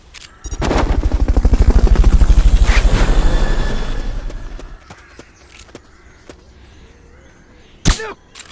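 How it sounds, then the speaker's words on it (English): Helicopter in the video game Metal Gear Solid: Peace Walker, its loud rhythmic rotor chopping swelling up close for a few seconds and then fading, followed by sparse clicks and a sharp burst. "Fulton recovery subject confirmed onboard helicopter."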